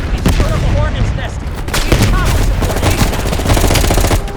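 Loud, rapid bursts of automatic gunfire crackle back and forth in a sustained firefight in Call of Duty: Black Ops Cold War, with faint shouting voices mixed among the shots.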